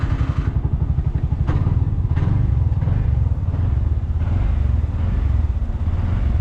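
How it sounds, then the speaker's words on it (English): A tuk-tuk engine runs loud and close with a rapid, throbbing putter, settling into a steady rough idle with a couple of clunks early on. "When all the light is off, you can start your tuk-tuk."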